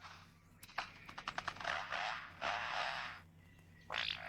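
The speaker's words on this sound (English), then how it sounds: "And now the sounds of a chainsaw" A lyrebird copies a chainsaw: a flurry of quick clicks and rasps builds into sustained buzzing, noisy roars. A further short burst follows, moderately loud against a quiet background.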